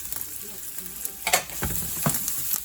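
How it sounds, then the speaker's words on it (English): Finely diced onions and shallots softening in a pan, a soft continuous sizzle broken by a few sharper scraping and clattering stir strokes nearby. "we're also softening the onions and all of the other vegetables in stages because everything cooks at a different time."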